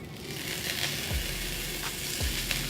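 A spoonful of butter sizzling in a hot pan for a vegan cheese recipe, a steady close frying hiss with a few low thumps of the pan or utensil moving.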